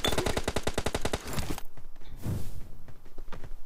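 Rapid burst of AK rifle fire in a first-person shooter game, about a dozen loud, evenly spaced shots in just over a second, followed by quieter in-game thuds and footsteps.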